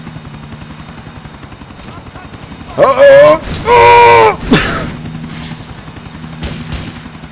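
Helicopter flying in Grand Theft Auto IV, a steady rotor drone throughout with someone talking and exclaiming over it.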